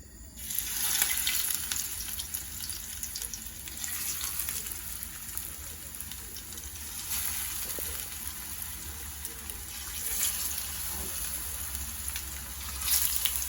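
Pressed green plantain slices refrying in hot oil to crisp for a Jamaican dish, a steady close bubbling sizzle that holds evenly throughout with no talking.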